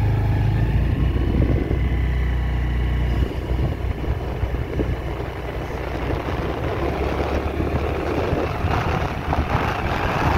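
Scooter ridden on a road, its small engine humming steadily with a low droning tone and some wind buffeting, fairly close and continuous, with no speech.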